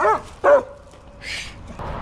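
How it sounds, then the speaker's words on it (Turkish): A dog barks nearby in two sharp, loud yaps, followed by quieter rustling and a brief hiss. "Mahallede birkaç köpek gördü. ona havlıyor."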